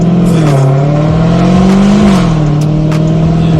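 A loud, close supercharged 1000-horsepower Hellcat muscle car engine roars steadily as it accelerates, its pitch rising and dipping with a high whine layered over the rumble.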